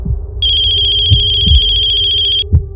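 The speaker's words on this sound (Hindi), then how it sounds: "मम्मी का फोन।" An electronic telephone ringtone rings in a single long trill of about two seconds, loud and close, over a low background rumble and a few soft knocks, with no one speaking.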